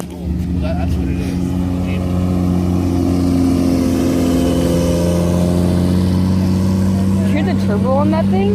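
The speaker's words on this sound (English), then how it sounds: "Hear the turbo on that thing?" A turbocharged car engine running loud and close, with a steady droning tone that rises as it revs, and people talking over it.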